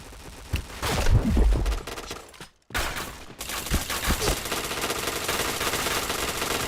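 Shooting-game gunfire in loud machine-gun bursts, broken by a brief silent gap near the middle, then continuing as steady automatic fire to the end.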